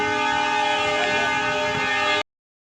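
A train departing a station toward Pilibhit Junction sounds one long, steady horn blast for about two seconds, loud and close, before cutting off abruptly to silence.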